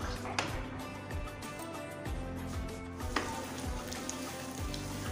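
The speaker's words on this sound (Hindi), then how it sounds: "अब इसमें फ्राई किए हुए आलू डाल देंगे और इनको भी मसाले में अच्छे से भून लेंगे।" Fried potatoes sizzle in a spice masala in a pan, a steady, close frying hiss broken by scraping stir strokes, with no talk over it.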